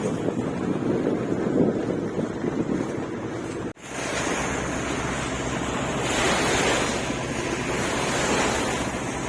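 Steady wind and rushing river water surround a boat travelling on a wide river in Bangladesh. The sound is a continuous broadband roar, briefly cut out for a moment partway through.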